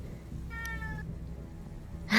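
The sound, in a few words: cat meowing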